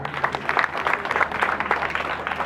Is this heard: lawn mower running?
no